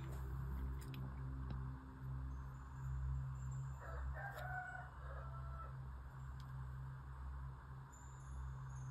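A rooster crows faintly in the distance, in short bursts midway through a quiet stretch over a low steady hum.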